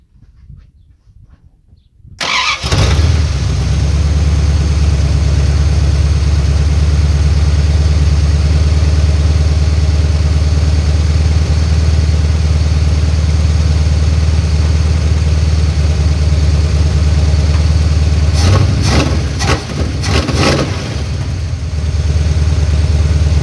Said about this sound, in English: So as you guys can see, it's actually running pretty good.